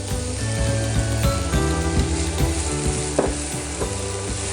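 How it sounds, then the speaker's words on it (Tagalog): Garlic and onion sauté in hot oil in a pan, a loud continuous sizzle and crackle with stirring clatter and scraping mixed in, close by and without talk. "mainit na yung ating oil, iglagay na natin yung garlic"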